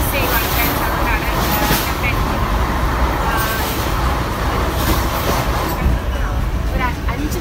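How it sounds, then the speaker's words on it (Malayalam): Train rolling along the Konkan Railway toward Goa, a steady broadband rumble and rattle running continuously throughout, with some voices and background noise mixed in. "ട്രെയിൻ പാസ് ചെയ്യുവാണ്"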